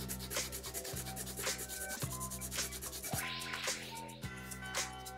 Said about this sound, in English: then just hit it up very lightly with some sandpaper.